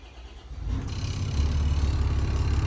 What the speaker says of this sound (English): So turn on, and we'll go with the port engine first, then the starboard.